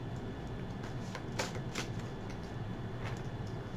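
Oracle cards shuffled and drawn from a deck, a steady soft papery riffle with a few sharper flicks, close and continuous throughout.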